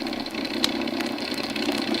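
A second aircraft engine runs at a steady idle, a continuous close rumbling hum with a few faint clicks over it and no talking.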